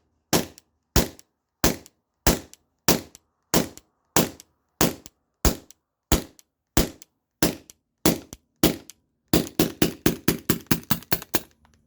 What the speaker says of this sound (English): I'm just gonna dry fire this